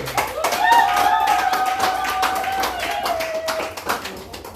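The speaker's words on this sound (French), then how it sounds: "Applaudissez." An audience at a French-speaking dowry ceremony breaks into scattered clapping, with irregular claps running under a drawn-out voice or tone, moderately near and lively throughout.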